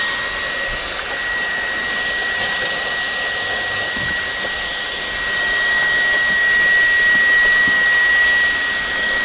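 A Fanttik V10 APEX cordless vacuum cleaner runs close and loud with a steady high-pitched whine and airy roar, holding constant for several seconds and swelling slightly partway through.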